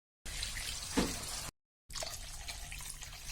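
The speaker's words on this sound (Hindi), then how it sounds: "अब यहाँ पर हम पानी डालेंगे।" Water poured into a cooking pan of jackfruit seed curry, two steady splashing pours separated by a brief silent gap, close and moderately loud with no talking.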